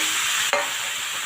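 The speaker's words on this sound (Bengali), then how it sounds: "সবজিগুলোকে আমি সুন্দর করে ভাজবো" Vegetables frying in a kadai over high heat, a steady bright sizzle broken once by a short stir or scrape partway through.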